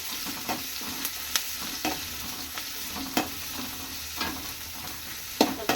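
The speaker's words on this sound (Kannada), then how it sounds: "ಈರುಳ್ಳಿ ಮತ್ತು ಹೀರೆಕಾಯಿ ಥರ ಸ್ವಲ್ಪ ಸಣ್ಣ ಸಣ್ಣದಾಗಿ ಕಟ್ ಮಾಡಿಟ್ಕೊಂಡಿರೋದು ಅದನ್ನು ಹಾಕ್ಕೊಂಡು ಫ್ರೈ ಮಾಡ್ಕೊಳ್ಳೋಣ ನೀಟಾಗಿ" Chopped onion with ridge gourd stir-frying in oil, a close, moderate sizzle broken by regular spatula scrapes and taps against the pan, repeating every second or so with no talking.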